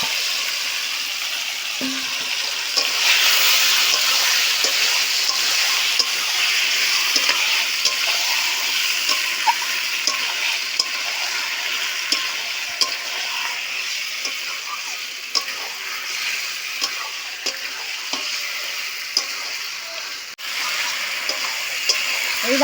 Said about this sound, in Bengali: এইভাবে ভালো করে নেড়ে চেড়ে কষতে হবে।